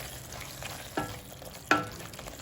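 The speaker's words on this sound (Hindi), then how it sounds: "जो तले वाले प्रॉन्स है ना उसके अंदर डाल देंगे। इसको अच्छे से मिला लेंगे।" Fried prawns are stirred into a sizzling tomato and onion curry gravy, a low steady sizzle broken by two distinct scraping stirs of a spoon in the pan.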